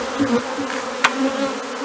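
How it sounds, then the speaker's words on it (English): A honey bee swarm clustered in a tree makes a dense, continuous buzz, close and steady, with a brief sharper click near the middle and no voices. "There are still a lot of bees in this tree."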